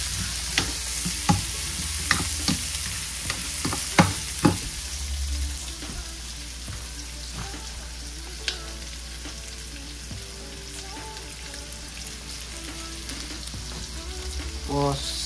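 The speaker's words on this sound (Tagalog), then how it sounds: "Gigisa na natin." Ingredients sauté in a hot pan, a steady loud sizzle with sharp clacks of a utensil stirring and scraping early on, then a softer continuous frying hiss.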